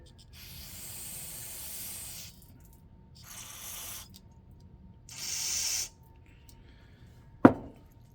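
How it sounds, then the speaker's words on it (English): Three bursts of hissing aerosol cleaner spray into a Kohler 6.5 hp engine on a wood splitter, each lasting a second or two with pauses between, then a sharp knock at the end. "We'll go ahead and just spray it out to get it nice and clean"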